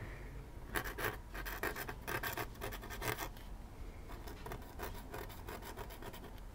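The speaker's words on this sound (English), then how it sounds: "And this one is very scratchy." A very fine calligraphy nib scratches across paper in a steady run of close, rasping strokes, heard up close and alone at a moderate level.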